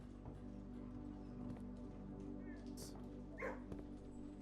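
Puppies bark and yip in the Blue Prince video game, small quiet barks scattered over a few seconds with a low hum underneath and faint talking.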